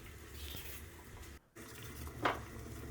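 Lentils being washed and rinsed under running tap water for Egyptian koshari: a steady splashing flow, briefly cut off for a moment, then resuming with a sharper splash near the end.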